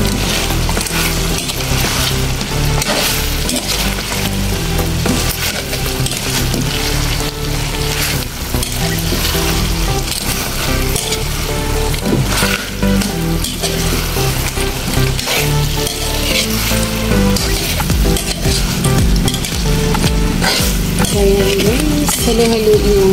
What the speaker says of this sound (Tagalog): Mix lang po natin yung ating sauce dito sa ating chicken na nag-fry na siya.